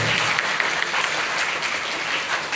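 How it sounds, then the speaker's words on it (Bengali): Audience applauding at a college closing ceremony for International SOS Children's Village Day in Bogura, with dense, steady clapping that fills the whole stretch at an even, fairly loud level. "সবাই একটা হাত তালি দেন"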